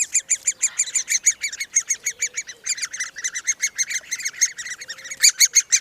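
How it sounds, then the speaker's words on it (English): Great spotted woodpecker chicks in a nest hole in an English orchard call without pause, a dense, rapid stream of shrill chattering notes, loud and close, with no voices. "hopefully you can hear how vocal those chicks are"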